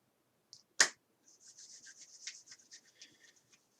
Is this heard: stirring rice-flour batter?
no